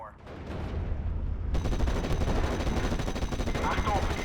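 Cannon and rapid gunfire in the World War II strategy game Steel Division Normandy 44, a dense, loud crackling barrage that kicks in sharply and keeps going, with faint voices underneath.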